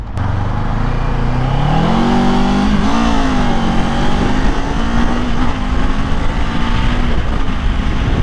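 Kawasaki Ninja 500 sport bike ridden at low RPM, a steady close engine drone with a slowly rising and dipping pitch as the throttle eases on, constant and loud with wind rush and no talk.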